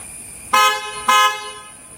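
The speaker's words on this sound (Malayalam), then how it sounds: "അപ്പൊ ഇങ്ങനെയാണ് ഹോൺ കാര്യങ്ങളൊക്കെ വന്നിട്ടുള്ളത്" A Tata Punch base model's horn honks twice close by, two short sharp toots about half a second apart over a steady background hum.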